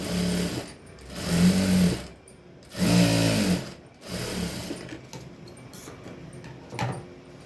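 A sewing machine stitches a child's short blouse in bursts of fast, rhythmic needle chatter, stopping and starting several times with brief pauses between runs, close and loud with no speech.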